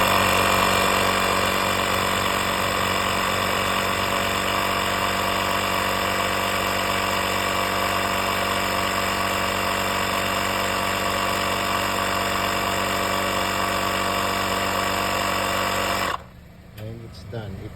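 A portable car tire inflator set to 32 psi runs steadily and loudly for about sixteen seconds with a buzzing motor drone, then cuts off abruptly, leaving quiet room sound.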